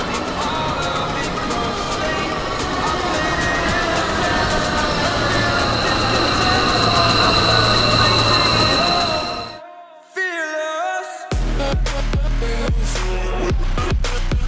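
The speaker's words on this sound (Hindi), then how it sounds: "अब मेट्रो पकड़ेंगे यहाँ से नागलोई की" A Delhi Metro train rumbles and hums steadily, then the noise drops away abruptly before resuming with a lower engine drone and clicks.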